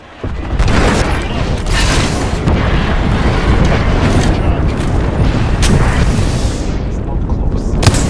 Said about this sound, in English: Signal in an airstrike.